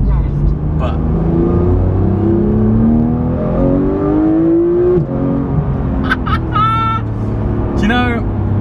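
A Porsche 991 GT3 engine runs with a loud, steady idle chunter and rising revs, close by and continuous throughout.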